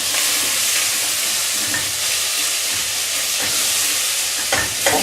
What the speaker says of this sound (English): What we're doing, rather noisily, is just improving the flavour of the vegetables. If you fry them a little bit, it brings out their flavours.